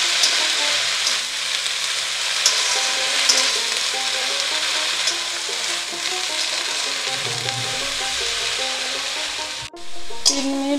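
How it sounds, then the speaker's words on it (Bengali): Bottle gourd leaves fry in a pan with salt, a steady close sizzle with soft stirring scrapes throughout and a brief dip near the end before the frying resumes. "তিন মিনিট ভাজা হয়েছে"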